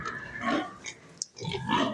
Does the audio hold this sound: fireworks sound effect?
no